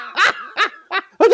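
A person imitates a puppy with four short, high yips in quick succession, close and loud.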